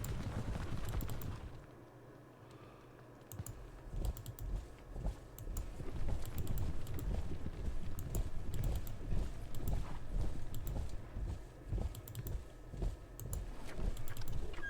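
Hoofbeats of Neapolitan horse artillery in a Napoleonic-era strategy video game, a busy patter of clip-clopping hooves and rattling mechanisms, steady and moderately loud after a brief quieter stretch.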